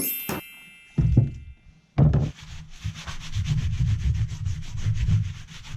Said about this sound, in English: we can simply remove it with some methylated spirits and a rag